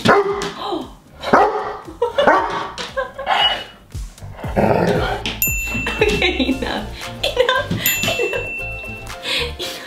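Dogs bark repeatedly in loud, uneven bursts, with a couple of high electronic dings mixed in.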